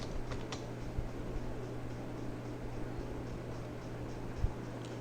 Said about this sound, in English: I type a user.